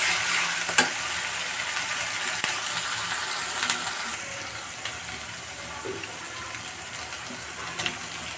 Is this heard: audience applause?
no